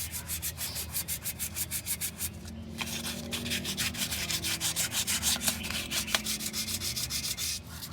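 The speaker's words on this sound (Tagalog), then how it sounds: "gamitin natin liha yung kanina lang din na manipis yan 1000 yan lilihain lang natin konti" Steady, rhythmic hand sanding with fine 1000-grit sandpaper on a brake part, rasping back and forth at close range, a soft, even scratching that runs throughout.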